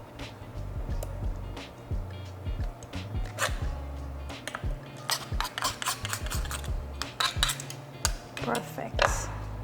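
Knife blade clicking and scraping against a cutting board as it pushes through raw geoduck clam, a run of sharp close taps and scrapes with short pauses between them.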